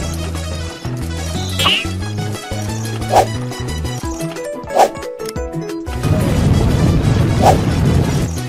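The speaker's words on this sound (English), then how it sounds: "making a sound with an iron rod, hoping that you will find me" An iron rod struck against metal in a cartoon earthquake rescue scene gives about four separate ringing clangs spaced a second or more apart, heard over busy background music.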